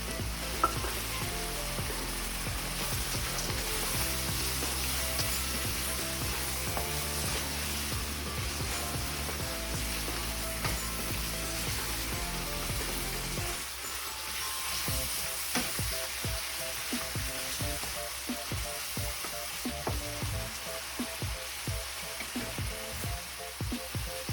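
Udon noodles and peanuts sizzle and crackle in a hot pan as they are stir-fried. The frying stays steady and close throughout, with stirring and scraping clatter layered on top.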